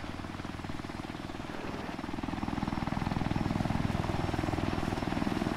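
A video game helicopter's steady rotor thump and engine drone, growing slightly louder, continuous and fairly close, with no talking, in Arma 3 Altis Life.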